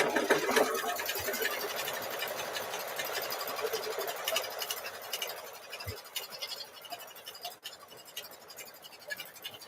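An embroidery sewing machine stitches a baby bib held in a hoop, its steady rapid needle whir running continuously and close throughout, with faint scratchy fabric noise and no talk.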